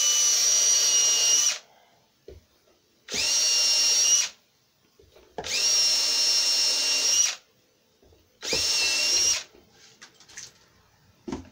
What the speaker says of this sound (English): drilling a hole in the center.